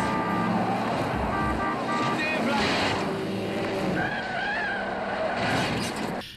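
Film car chase with a Ford Cougar, tyres squealing and skidding amid engine roar and rushing noise, loud and close, with a voice speaking over part of it.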